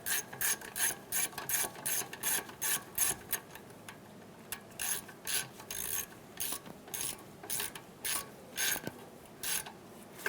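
A hand ratchet snugs down the bolts on a 2004-2008 Acura TL strut, quick bursts of close clicking pawl ratcheting repeated in short strokes with brief pauses between them.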